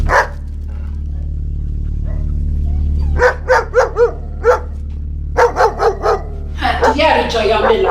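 A dog barks in sharp, close bursts: a run of about six barks, then a second quick cluster and a yelp, over a steady low hum.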